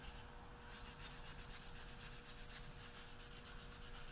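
Sandpaper is rubbed by hand over a wooden gun stock, giving a faint, continuous dry scratching with soft rhythmic strokes against a steady background hiss.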